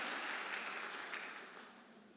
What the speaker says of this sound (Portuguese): A mulherada aplauda agora Jesus, por favor.